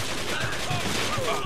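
Gunfire in the Mafia 2 video game, a short burst of shots ringing out over a dense game soundtrack with a voice talking underneath.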